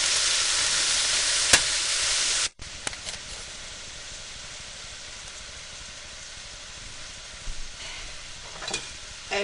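Celery and snow peas stir-fry in a hot wok, a loud steady sizzle that cuts off abruptly, then quieter crackling and spatter continues with occasional stirring clatter.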